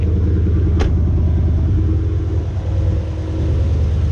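A Dodge Charger 392 with a 6.4L engine idles steadily on E85 fuel, giving a loud, continuous low rumble close by with no voices.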